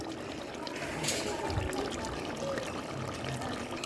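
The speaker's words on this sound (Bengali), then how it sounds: "একটু গুড়িয়া দিয়ে এখন কি সুন্দর টকবক করে ফুটের খাসির মাংস" Mutton curry bubbling thickly in a pot, a close, steady wet simmer with soft pops and gurgles throughout, a voice speaking faintly over it.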